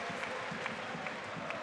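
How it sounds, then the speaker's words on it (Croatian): Home supporters applauding at a Croatian league football match between Rijeka and Dinamo, a steady wash of clapping and crowd noise from a stadium, with commentary voices faintly mixed in. "Imali su domaći navijači razloga za pljesak."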